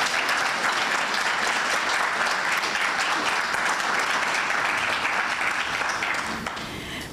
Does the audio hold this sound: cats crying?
no